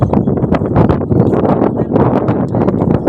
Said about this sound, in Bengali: বাতাস কিন্তু ভালো লাগতেছে